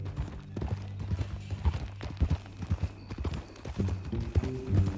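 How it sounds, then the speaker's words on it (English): Horse hooves clip-clop in a steady walking rhythm in Red Dead Redemption 2, close and fairly clear, with a brief horse snort or whinny-like sound near the end. "That a new horse?"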